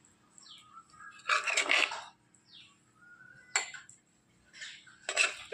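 Metal utensils scrape and clink against a pot and bowl as ripe mango thalippu curry is spooned into a serving dish, in a few sharp clusters with quiet gaps and faint birdsong in the background.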